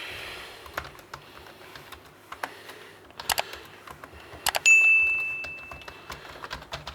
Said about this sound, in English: it's got a slight clickiness to it